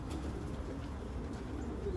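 Racing pigeons coo in a young-bird loft the day after a race, a soft, steady murmur of low cooing from several birds close by, with no voices over it.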